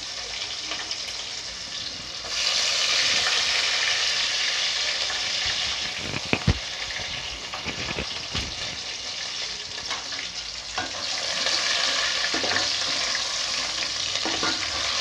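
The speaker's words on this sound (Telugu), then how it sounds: "కరేపాకు ఎర్రగడ్డ ఒట్టి మిరపకాయ అవి వేసుకుందాము" Curry leaves, onion and dry red chillies frying in oil for a ridge gourd and tomato curry, a loud steady hiss and sizzle with occasional stirring knocks against the pan.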